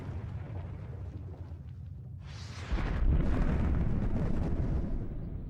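Asteroid impacts on the early Earth, rendered as a deep, steady rumble that swells into a heavier roaring blast midway and keeps thundering on, with no voices.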